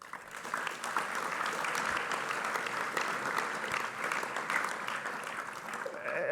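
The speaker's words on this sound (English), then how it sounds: "You can give yourself a big round of applause." Audience applause at a business school lecture, sustained dense clapping that fills the whole stretch at an even, moderately loud level.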